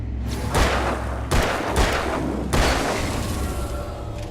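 Gunshots ring out in the video game Alan Wake, four heavy booming blasts spaced about a second apart, loud and close, each trailing off into a low rumbling echo.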